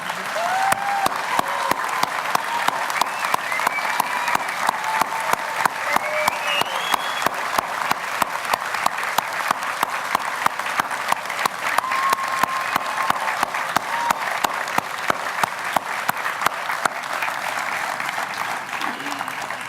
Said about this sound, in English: can you stand one more time so that we can give some applause